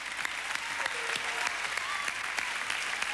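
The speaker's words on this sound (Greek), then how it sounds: "Ένα χειροκρότημα στους καθηγητές μου." Steady, dense applause from a crowd in a talent-show studio, clapping in honour of the teachers, with scattered sharper claps standing out over a continuous roar.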